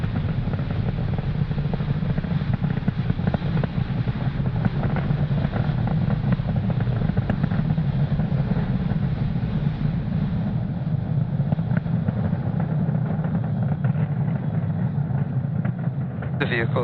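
A SpaceX Falcon 9 rocket climbs through supersonic flight on its 100th launch from Space Launch Complex 40, producing a loud, steady, broadband roar with a deep rumble that continues unbroken to the end.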